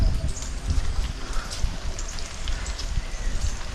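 Heavy rain pours steadily outdoors, a dense continuous hiss of falling water and splashing drops that stays loud throughout, with no voices.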